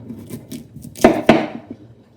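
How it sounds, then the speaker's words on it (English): A knife chops sweet potato into cubes on a board, a few soft cuts followed by two sharper knocks close together, then lighter taps, near and fairly quiet. "I'm chopping it into cubes"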